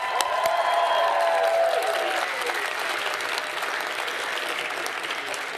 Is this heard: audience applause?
yes